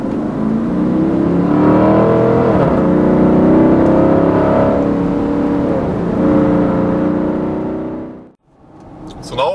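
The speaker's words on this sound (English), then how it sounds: "I want to see what the Cayenne GTS feels like when I'm driving it a little bit more spirited" A 2014 Porsche Cayenne GTS accelerates hard on a twisty road, its engine droning loudly as it climbs through revs with a few dips at gear changes, then cuts off abruptly near the end, heard from inside the cabin.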